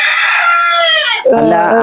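A native spotted hen (pullikozhi) on a Kerala poultry farm gives loud, close calls, a drawn-out cry that breaks into rapid clucking notes near the end.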